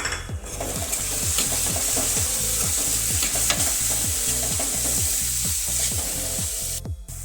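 Tomatoes, onions and spices stirred in a hot pan for a lentil dish, a loud, close sizzle cut by steady rhythmic scraping strokes of a spoon, repeated evenly throughout with no talk.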